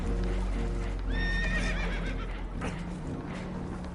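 Spooked horses whinny loudly in a PS5 video game, a shrill neigh rising over a dense background rumble with faint hoof clatter.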